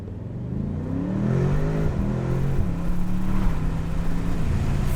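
A 2023 Audi S8 with an 8-speed Tiptronic automatic accelerates hard from a standstill, its engine note rising steadily with audible gear shifts, loud and continuous with no talking.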